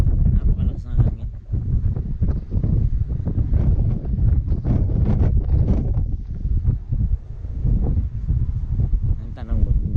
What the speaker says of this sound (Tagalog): Guys, napakalakas ng hangin.